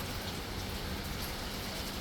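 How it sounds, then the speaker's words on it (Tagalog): Steady rain falls in Kuwait as a dense, even hiss with a low rumble underneath, continuous and close for the whole stretch, with no voices. "Kasi minsan lang umulan sa Kuwait."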